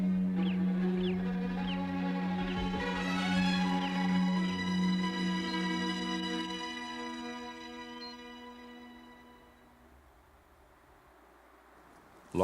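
Jaegers call over the tundra while harassing a snowy owl: loud, harsh, repeated cries in quick succession that carry for several seconds, then thin out and fade to quiet near the end.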